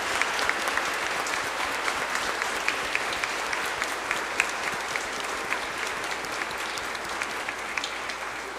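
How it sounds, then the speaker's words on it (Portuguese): A church congregation at a solemn mass for Saints Peter and Paul applauds the children's choir, sustained even clapping from many hands filling the room for several seconds, with no talk over it. "queria ter que dessemos uma salva de palmas às crianças"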